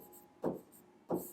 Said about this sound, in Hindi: अब यहाँ पे लिखेंगे रोहन